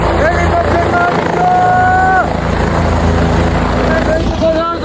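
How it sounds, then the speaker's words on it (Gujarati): A loud, steady rotor roar of two helicopters at Kedarnath fills the air while voices call and talk over the din. "બે હેલિકોપ્ટર આવી ગયા છે"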